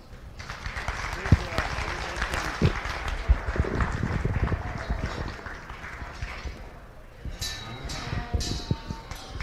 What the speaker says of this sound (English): One more time, big round of applause for these young kids.